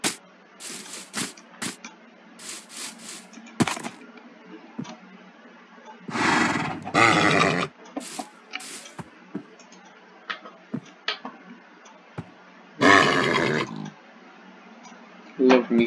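Two loud, shrill horse whinnies burst out several seconds apart, amid sharp clicks and taps with a low steady hum underneath.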